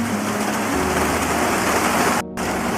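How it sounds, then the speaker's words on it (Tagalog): Steady, dense downpour of heavy rain on a farm in the Philippines, loud and close, a continuous hiss with a brief dropout near the end. "Ngayon medyo malakas yung ulan."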